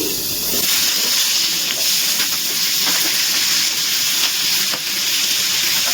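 Sliced onions dropped into hot oil with slit green chillies for chicken do pyaza, giving a steady, loud broadband sizzle and hiss that runs unbroken throughout, with faint stirring clicks.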